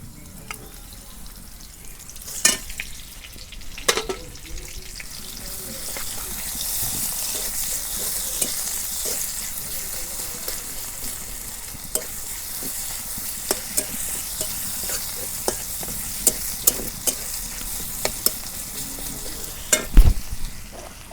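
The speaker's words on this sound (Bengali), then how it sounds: "পেঁয়াজ আর রসুন একসাথে আমি দিয়ে দিই তেলের মধ্যে।" Onion and garlic frying in hot oil for a village-style kochu shak (taro leaf) dish, giving a steady close sizzle with scattered stirring clinks and a few sharper utensil knocks, with no talking.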